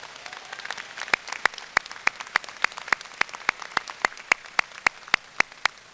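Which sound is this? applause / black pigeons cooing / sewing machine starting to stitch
applause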